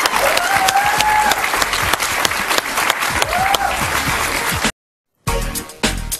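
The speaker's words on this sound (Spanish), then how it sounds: "Un aplauso para él," A studio audience applauds guest Antonio Ledesma on a Spanish-language talk show. Dense, loud, sustained clapping carries a brief whistle, cuts out for a moment, then returns.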